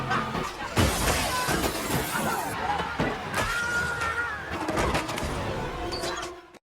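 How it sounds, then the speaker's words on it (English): A glass wall in a store shatters as a Black Friday crowd stampedes, a loud crash followed by scattering breakage and clatter amid crowd commotion and voices, ending abruptly. "the glass shatters, causing mayhem in the store"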